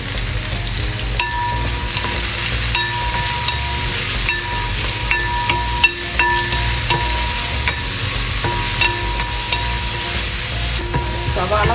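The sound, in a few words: onions sautéing in oil for Kerala kappa biriyani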